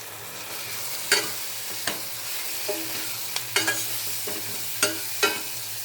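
Horse gram being stirred and dry-fried in a pan: repeated sharp scraping strokes of a utensil over a steady low sizzle, close and fairly loud, with no talking.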